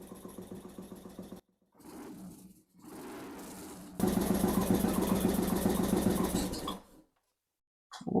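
A 2005 Kawasaki Vulcan 2000 motorcycle engine idles with a rapid, even ticking putter, cutting out briefly a few times, then running louder before stopping.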